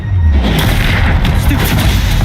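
A loud, sustained explosive boom from the Confringo fire spell in the game Hogwarts Legacy, filling the whole short clip with a deep, heavy blast and rumbling aftermath.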